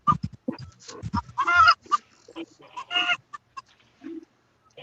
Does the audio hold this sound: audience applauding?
no